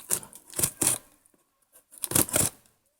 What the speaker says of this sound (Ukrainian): скотчем, який, в принципі, взагалі майже не тримається, можна просто віддерти